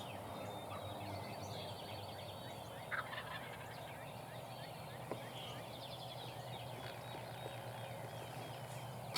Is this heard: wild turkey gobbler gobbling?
yes